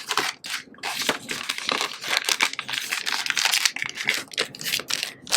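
Sticker sheets being handled up close, with continuous crinkly rustling and crackling bursts in quick succession, fairly loud and with no talk.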